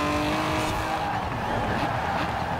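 A 1971 Lotus Elan Sprint driven hard through corners, its engine revving loudly with tyres squealing and sliding, steady and close for a few seconds.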